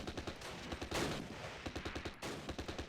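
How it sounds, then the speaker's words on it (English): Rapid gunfire in the Close Combat war game, rhythmic bursts of automatic shots with a louder blast in the middle, dense and close, no voices over it. "Running low on ammo, yeah, I know, but just keep shooting."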